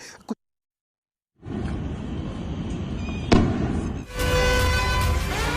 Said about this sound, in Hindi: गोलियों की आवाज़ें आ रही हैं